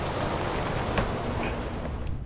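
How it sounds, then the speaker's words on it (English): Rain falling at a flooded campsite, a dense, constant hiss of drops that stays loud and even throughout, with a few faint spatters over it. "we're getting inside right now because I'm getting rained on"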